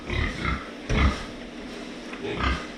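A pig on a farm, being treated against flies in summer heat, gives three short low grunts, close and moderately loud, spaced by quiet gaps.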